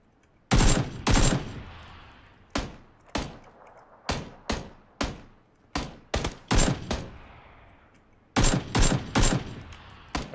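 Gunfire in the video game PlayerUnknown's Battlegrounds, heard as a series of loud, sharp single shots and quick pairs at irregular intervals, each with a short trailing echo, and no talking.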